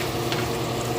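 Sliced onions sizzle in a generous amount of butter in a pan, a steady close crackling hiss heard alone over a brief moment.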